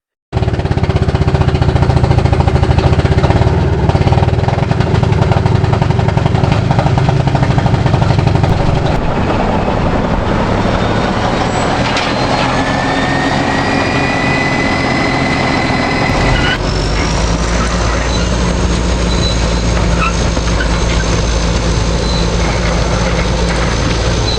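A 286-horsepower D9 diesel engine rumbles loudly and continuously at a construction site, a deep, steady drone with mechanical clatter that shifts in character a couple of times as the engine runs on.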